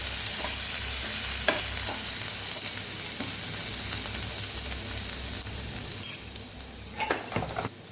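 Coarsely ground garlic sizzles steadily in hot oil for a raw mango and garlic chutney, with a continuous close frying hiss and a few sharp stirring clinks near the end. No one speaks.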